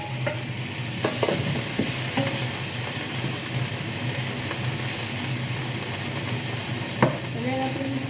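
Ground beef sizzles loudly in a pan for pasta and is stirred throughout, with a near, continuous fry and occasional scrapes and clinks of the spoon.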